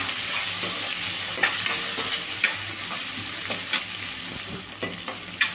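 Soaked moong dal sizzles and crackles steadily in a hot pan, with a few louder scrapes and stirring clatters scattered through.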